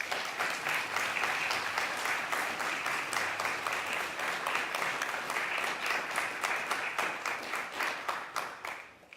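Audience applauding theology graduates at a university convocation, steady sustained clapping from a crowd in a hall, moderately loud and continuous before tapering off at the end.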